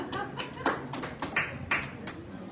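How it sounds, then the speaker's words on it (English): A small live-music audience claps sparsely after a song, scattered individual claps and taps at an uneven rhythm, close and fairly clear. "All right, you guys can clap it now."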